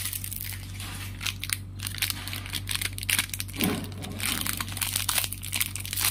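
Crinkly plastic of an Oreo pie package being torn and crumpled open, a steady close-up crackling and crunching with a few sharper rustles, over a constant low electrical hum.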